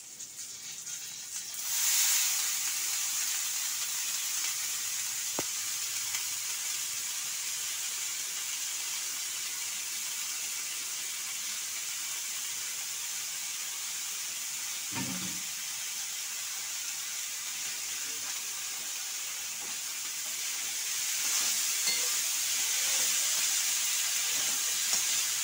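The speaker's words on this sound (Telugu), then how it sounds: "ఇప్పుడు పోపు వేగింది. ఇందులోనూ ఉడికిన పనసపొట్టు వేస్తున్నాం." Boiled jackfruit shreds frying in a hot tempering, a steady broadband sizzle and hiss that runs almost unbroken for the whole stretch, with one brief thump partway through and no voices.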